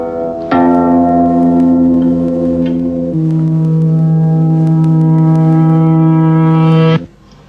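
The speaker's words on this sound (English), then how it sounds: "We've got the decay first. Now it's become a wah sound." Sustained droning tones of reversed tape notes in musique concrete, with a swelling, bell-like quality, one pitch stepping down midway, then cutting off abruptly near the end.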